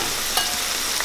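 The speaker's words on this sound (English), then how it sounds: "this okra seems to be frying up really well" Battered canned okra fries in hot oil with a dense, steady sizzle filling the brief moment close up, broken by a faint stir.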